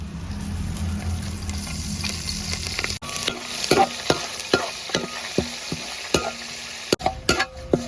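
Green chilies and curry leaves frying in hot oil for an Indian plum pickle: a soft sizzle at first, then a spoon scraping and stirring the pan in sharp, irregular clicks over a crackling fry.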